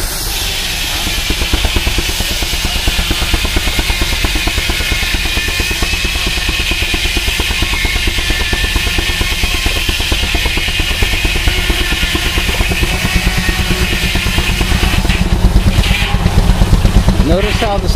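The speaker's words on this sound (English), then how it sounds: "Notice how the steam engine sounds when it's under a load, when it's cutting." A steam engine drives a sawmill at an engine club show, chuffing in a dense, steady rhythm with loud hiss as it works under load while cutting, continuous throughout.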